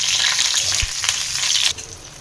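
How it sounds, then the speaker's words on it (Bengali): Cauliflower and potatoes frying together in oil in a pan, a loud, bright sizzle up close that drops suddenly to a quieter hiss near the end, with no one speaking. "ফুলকপিটাও একটু ভেজে নিই আলুর সাথে।"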